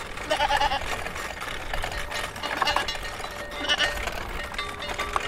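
A shepherd's flock of sheep in a city setting gives a few short bleats over a busy, noisy background, with some voices now and then.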